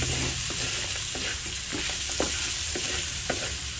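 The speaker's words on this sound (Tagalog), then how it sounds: "Akin lang pong hahaluin." Ginisang monggo with pork, garlic and onion stirred in a hot pan: a steady frying sizzle runs throughout, with soft spoon scrapes and taps against the pan at irregular intervals.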